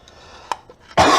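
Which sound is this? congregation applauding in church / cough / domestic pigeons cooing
cough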